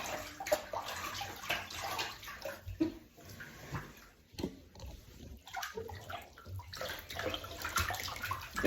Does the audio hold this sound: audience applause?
no